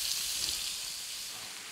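Sliced skirt steak browns in a skillet with a steady, soft sizzling hiss that stays even throughout the short stretch, moderately close and with no talking.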